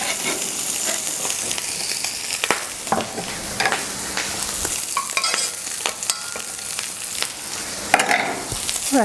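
Finely chopped celery and onion sizzle and fry steadily in a pan while being stirred, with scraping clicks of the utensil over a constant hiss, close and fairly loud, no talk.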